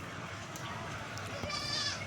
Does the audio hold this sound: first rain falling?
no